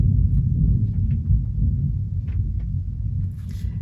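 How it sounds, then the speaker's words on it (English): Distant thunder gives a low, continuous rumble that rolls on without a break, deep and muffled, with no talking. "Can you hear the thunder?"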